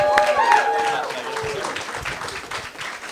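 Audience applause after a live performance, a broad wash of clapping with crowd noise and voices over it, fading slightly toward the end.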